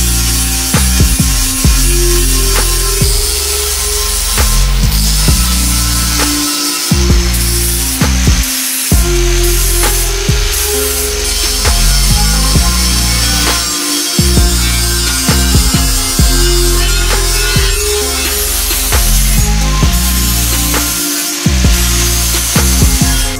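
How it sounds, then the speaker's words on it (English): An angle grinder works weld seams on a homemade steel front bumper for a Toyota pickup. The loud, continuous whine and grind carries through, with only a few short dips where the disc briefly lifts off the metal. "finish grinding all these seams out"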